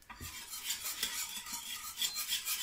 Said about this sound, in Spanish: Y vamos a seguir revolviendo sin parar para que no se nos queme.